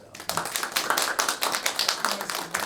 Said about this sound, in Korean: 우리가 박수 한번 보내드립니다